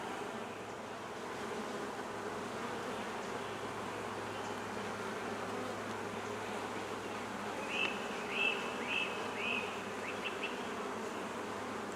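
Honey bees hum at an open beehive, a soft continuous droning buzz with a few closer, higher-pitched passes near the end, all fairly quiet against low background noise.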